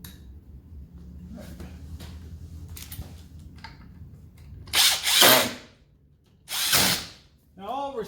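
A power drill driving screws while reinstalling a part during a drive belt change on a Kawasaki Prairie 400 ATV: two short close whirring bursts in the second half, after quieter handling clatter.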